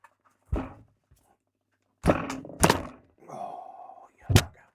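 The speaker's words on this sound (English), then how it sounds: "Now, the reason I've just broken the barrel there" Weihrauch HW90 air rifle barrel being broken open: a sequence of solid mechanical thunks and clunks, one early knock then a pair of heavy close thuds, a brief metallic grind, and a final sharp thunk, fairly loud and close with no talk.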